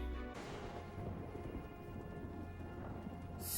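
Thunderstorm with steady rain in a TV drama scene, a broad wash of rainfall with low rumbling thunder rolling continuously beneath it, loud and close throughout with no talking.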